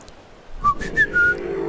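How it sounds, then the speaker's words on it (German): In the video game Ark: Survival Evolved, a player whistles to call dinosaurs: a few short whistle notes, the last one drawn out and sliding, clear and close over quiet game ambience. "Ich pfeife jetzt meine Saurier ran."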